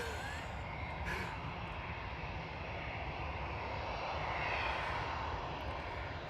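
A Boeing 737-800 airliner arriving from Gran Canaria touches down at Manchester Airport, producing a steady broad roar of engines and rushing air that swells slightly toward the end, heard from a distance outdoors.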